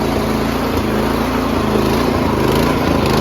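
A Troy-Bilt Storm 2410 snowblower engine with an MTD Powermore motor runs at full throttle. Its loud, steady close drone rises and falls slightly as it surges, and no one speaks.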